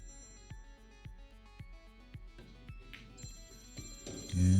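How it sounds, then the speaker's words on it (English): A mobile phone ringtone goes off at a pool hall during a one-pocket match, a faint tonal melody rising over recurring soft knocks, growing louder toward the end. "somebody's phone is going off"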